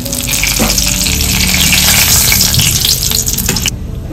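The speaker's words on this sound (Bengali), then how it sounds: "এই তেলে এবার আমি ফোড়ন দেবো।" Cinnamon, cardamom, cloves and a bay leaf temper in hot oil for shahi paneer, making a loud, close, continuous crackling sizzle with a few sharper pops before it cuts off abruptly near the end.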